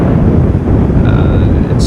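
Strong wind gusts roaring across the microphone during a winter blizzard while camping in a van, a constant loud rumble that fills the whole clip, with a faint higher whistle briefly rising near the end.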